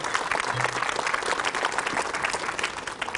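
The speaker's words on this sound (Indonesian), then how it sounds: "Nah semuanya boleh tepuk tangan sekali lagi." Studio audience on an Indonesian religious TV talk show claps steadily and densely for several seconds, a full continuous round of applause with a faint voice briefly underneath.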